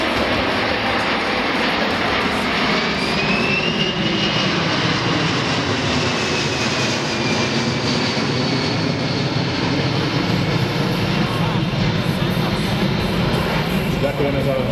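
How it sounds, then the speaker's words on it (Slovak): A C-17 military transport jet at an air show gives a loud, steady jet roar that fills the whole stretch, with a faint rising whine on top and voices murmuring beneath. "unikátna príležitosť pozrieť si na takúto vzdialenosť lietadlo tohoto typu C-17"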